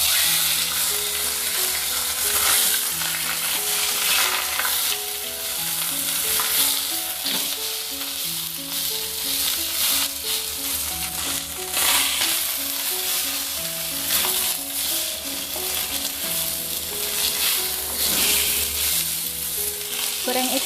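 Fish sizzling steadily in a pan of hot oil, a loud, continuous crackle with dense spattering that holds even throughout, no voices.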